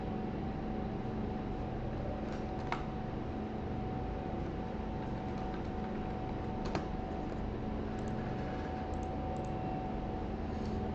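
Soft, sparse keyboard typing with occasional sharper clicks over a steady low electronic hum.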